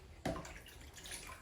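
Tap water trickles slowly during pot washing in a home kitchen, a soft, steady running and splashing sound that starts abruptly and stays faint and close.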